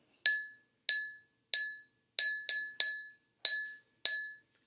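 A pen taps a cup eight times in an uneven rhythm, each strike a bright, ringing clink that decays quickly, heard close and alone against silence.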